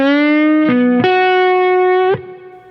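A lap steel guitar in open D tuning plays a short fill of sustained, sliding notes with distortion. It steps up in pitch twice, holds one long note, then cuts off and leaves a fading tail.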